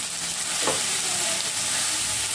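Spring onion greens sautéing in hot oil in a pan, a continuous close sizzle and hiss with a brief stirring scrape partway through, no voices.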